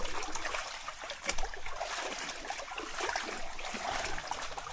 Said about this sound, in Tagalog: Ang laki na po ng papasok tubig.